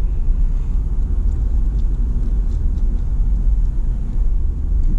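A motor coach rolls slowly through an RV park, a heavy, continuous low rumble of engine and tires heard from inside, steady and loud with no talking.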